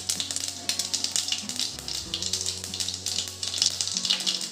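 Cumin seeds sizzle in hot oil together with mustard seeds for tempering: a steady bright crackling fry with scattered pops, close and fairly quiet, over a low background hum.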